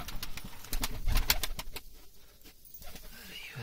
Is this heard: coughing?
no